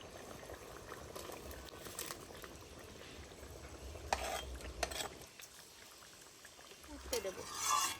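Fried potato and pointed gourd pieces go into a pot of boiling gravy for a prawn and pointed gourd curry, giving a steady bubbling simmer with scattered plops and stirring clatter, moderately close and fairly quiet.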